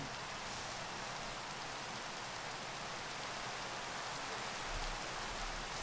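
Steady rain in the Minecraft modpack Modern Skyblock 3, a constant broadband hiss of falling drops that fills the whole stretch at an even level with no talking.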